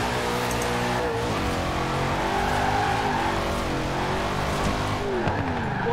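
Car braking hard and skidding into a corner in Forza Horizon 4 on Fortune Island, a steady close engine drone with tire squeal rising over it, no speech.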